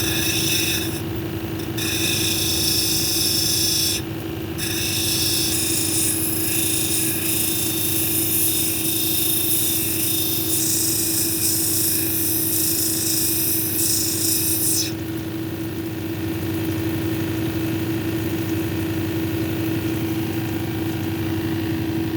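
Lapidary grinding wheel, 220 grit, shaping a feldspar cabochon: a continuous motor whine with a loud gritty grinding hiss that shifts as the stone is pressed and eased off, then quietens near the end while the motor keeps running.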